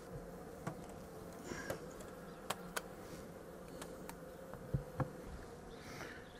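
Honey bees buzzing around a hive during a transfer into a Flow Hive, a steady close drone with scattered clicks and knocks from handling the frames.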